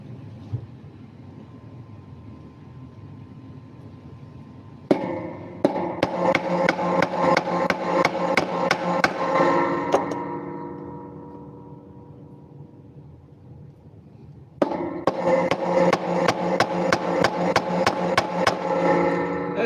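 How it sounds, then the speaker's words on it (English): Chisel struck repeatedly with a wooden mallet on scrap wood, a steady run of sharp knocking blows in two bursts separated by a quieter pause, close and loud. "not gonna use the saw at all. All chisel work, baby."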